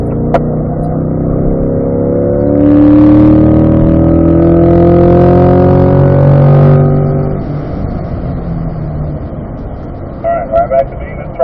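A C8 Corvette engine pulls under throttle on the Spring Mountain race track, a loud, steady drone whose pitch climbs smoothly, swells in the middle and then eases off.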